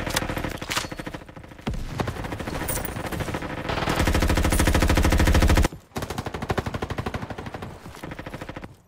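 Rapid automatic gunfire from a gun in the Roblox video game, a dense loud rattle of repeated shots running continuously with a brief break near the middle before the bursts resume.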